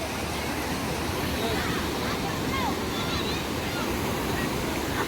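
Sea waves break on the beach at Cox's Bazar in a steady, dense wash of surf with wind noise, continuous and fairly loud, with faint voices in the background.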